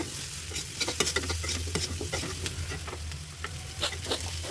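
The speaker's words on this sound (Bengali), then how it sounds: "তারপর আমি ভালোভাবে নাড়াচাড়া করবো।" Chili powder, cumin and garam masala are stirred in a hot frying pan while cooking a rohu fish curry with cauliflower and potato, giving a soft sizzle under irregular scraping strokes of a spoon against the pan.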